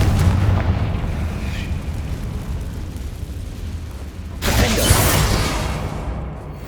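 A Confringo fire spell explodes in Hogwarts Legacy gameplay amid a rumbling, crackling game soundscape, with a sudden bright burst of the blast partway through.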